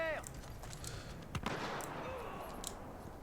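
Shotgun fire in a Battlefield Hardline multiplayer match cracks out as a few sharp blasts within a jumble of game noise, with a voice talking over the action.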